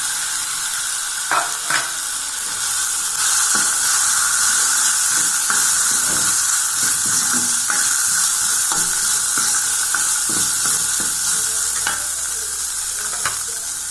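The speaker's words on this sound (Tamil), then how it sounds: "இப்போ நம்ம எல்லாத்தையும் ஒன்று ஒன்றா போட்டு வதக்கிடலாங்க வெங்காயம்" Ginger, garlic and onion sautéing in a pan for barley porridge, giving a loud, constant hissing sizzle with occasional stirring clicks and scrapes close by, and no voices.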